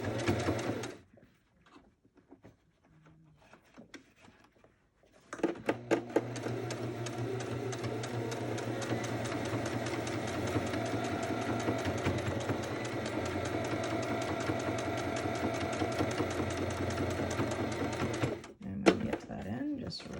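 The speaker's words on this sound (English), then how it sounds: "We're going to pivot it all the way so we can sew along the top there." A sewing machine topstitches a fabric face mask with a filter pocket, starting after a short pause and running as a steady, fast mechanical whir for about thirteen seconds before stopping, with speech heard around it.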